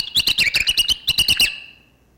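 Mouse vocalizations pitch-shifted down into a bright birdlike warble: two quick bursts of about a dozen rapid chirps each, close and clear, the second run fading into silence.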